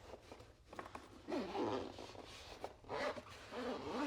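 A zipper is dragged around a laptop accessory sleeve packed tight with gear, giving several quick, close rasping pulls with short pauses between them, quiet and with no talking.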